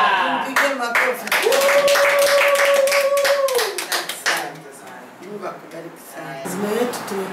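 Audience at a political rally in Kibaha claps hands in a dense, fast burst of applause that fades out, with a speaker's voice and a sustained sung or called tone over the clapping.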